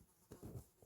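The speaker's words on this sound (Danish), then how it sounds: "Det er bare en kæmpe flue, der er herinde lige nu." A large fly buzzes indoors, faint and close, in short uneven bursts as it moves around the room.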